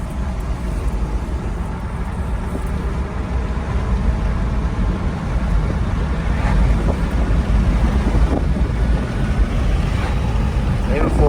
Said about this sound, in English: The vehicle shifts nice and smooth.